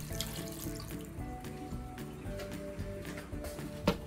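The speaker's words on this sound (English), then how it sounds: "put your potatoes in a large bowl and cover them with water" Tap water runs steadily into a large bowl of potatoes in a kitchen, a faint continuous splashing hiss heard alone.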